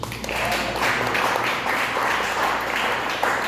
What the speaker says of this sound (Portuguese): Você pode aplaudir o nome de Jesus?